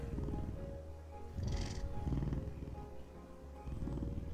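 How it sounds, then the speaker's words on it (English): A calico cat purrs steadily close up in a low rumbling rhythm that swells and eases with each breath, alone without voices. "Nothing like napping with a purring cat."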